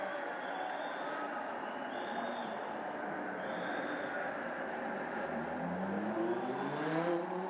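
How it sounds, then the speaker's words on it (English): Lamborghini Super Trofeo Asia race cars rolling down the pit lane at Sepang, a distant steady engine drone under crowd and circuit ambience, ending with one car's rising whine as it passes closer. "Down the pit lane come the cars for Lamborghini Super Trofeo Asia"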